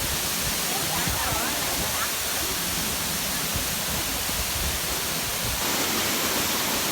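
A steady, dense roar of a waterfall near Boracay in the Philippines pours on without a break, loud and close, filling the whole stretch.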